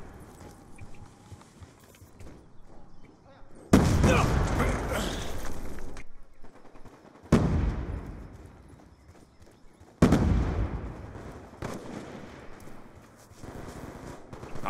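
A Death Machine minigun fires in a Call of Duty Black Ops 2 multiplayer match, in three long, loud, dense bursts separated by short quieter gaps.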